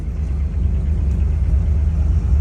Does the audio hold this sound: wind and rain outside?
no